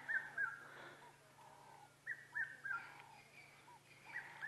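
A cuckoo calls in the African bush during a sunrise safari, with faint repeated whistled notes in short phrases, distant and quiet over a low steady hum.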